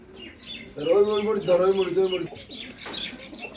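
High-flying pigeons cooing close by, soft throaty calls repeating over a few seconds with faint background noise.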